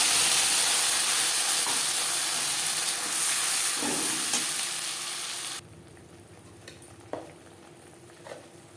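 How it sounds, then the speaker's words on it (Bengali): Tomato and green chilli paste hits hot oil with cumin, a loud hissing sizzle that drops abruptly to a quieter simmer with occasional stirring clinks and pops. "জিরে ভেজে নেওয়ার পর দিয়ে দেবো টমেটো ও কাঁচা লঙ্কার পেস্ট"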